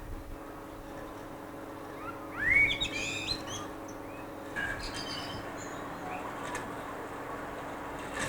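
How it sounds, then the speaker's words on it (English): Birds chirping in a garden, a few short bright calls and tweets near the middle over a quiet steady hum, fairly faint and sparse. "I can just listen to the birds."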